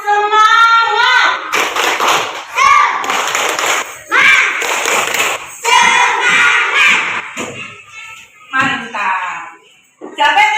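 A classroom of pupils performing a rhythmic spirit clap, loud patterned handclaps mixed with the children's shouted chant, close and energetic in bursts.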